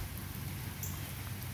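Steady rain falls in a dense, even hiss outdoors, with no talk.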